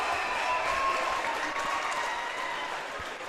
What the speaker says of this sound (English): And this crowd is loud.